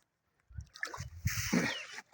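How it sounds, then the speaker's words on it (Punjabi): Water is poured into a buffalo dung mixture on a village farm, making a short, close run of wet splashing and sloshing that starts soft and grows heavier. "ਅੱਛਾ ਹੁਣ ਫਿਰ ਪਾਣੀ ਪਾਣਾ।"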